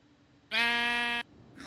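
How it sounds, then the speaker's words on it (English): A loud, near sheep bleat from the Minecraft video game, one harmonic-rich cry lasting under a second, with the start of a second bleat cutting in at the end. "That was a loud sheep."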